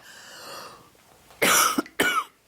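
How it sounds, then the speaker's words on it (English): Two loud, harsh coughs close by, each a short burst, coming after a stretch of quiet background murmur. "You often cough."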